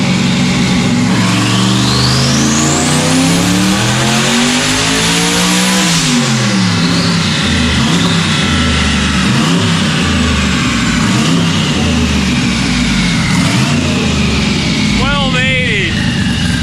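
A LEROY race car with a newly installed mechanical fuel pump system roars through loud, sustained revving with rising and falling engine pitch, talk running underneath throughout.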